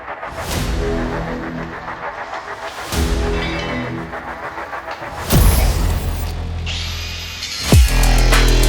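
A power tool cuts out the inner wing panel of a wrecked VW Scirocco, loud grinding and whirring runs in several bursts with pauses, metal rasping close by.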